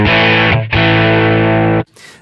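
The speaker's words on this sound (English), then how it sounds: "that is the sound of a clean amp being wound right up" Line 6 POD modelling a clean amp with the drive turned fully up gives a loud, sustained distorted guitar chord, briefly cut and restruck, then stopping abruptly into quiet noise.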